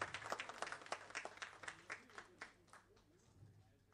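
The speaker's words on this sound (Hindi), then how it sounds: "जोरदार ताली होनी चाहिए जितेंद्र जी के लिए।" Scattered applause for Bollywood star Jitendra at a tribute event for a singer, a few distinct claps fading from a quick burst into sparse, faint strokes.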